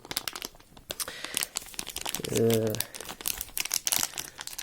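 Crinkling plastic packaging around a 62 cm winter fishing spinning rod, rustling in short bursts close by while someone talks over it.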